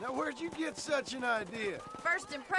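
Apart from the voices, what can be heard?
None of the usual background noises is heard.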